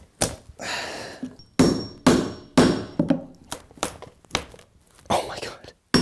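Hammer strikes driving into a wooden joist during home repair on a pocket door wall, with a series of loud, sharp, uneven blows separated by pauses and a few softer knocks.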